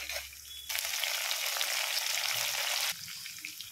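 Spices for a temple-style curd rice tempering hit hot oil in a sudden burst of loud hissing that holds for about two seconds, then drops back to a quieter background; no voices.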